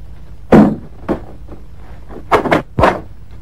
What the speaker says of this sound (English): Dick, this is the door.